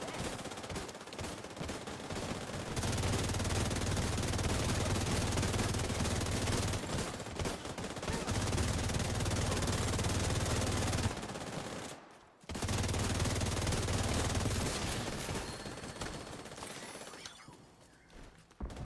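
Rapid automatic turret fire in The Division 2, loud sustained bursts of gunfire broken by brief pauses, with a dense chaotic game soundscape throughout.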